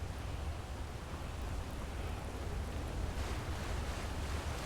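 A steady, broadband roar of falling water from a waterfall in the video game Skyrim, continuous and even throughout with no talk.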